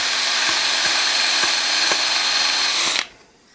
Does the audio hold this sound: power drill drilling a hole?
yes